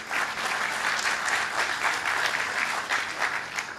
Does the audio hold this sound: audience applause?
yes